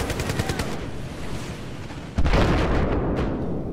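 Battlefield 4 conquest match gunfire: a dense run of rapid automatic shots rattles on, then a louder blast-like burst of firing takes over, with no speech.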